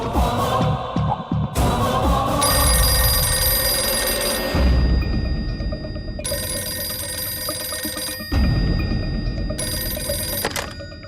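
A telephone bell rings loudly in repeated bursts separated by short pauses, close and alone with no voices.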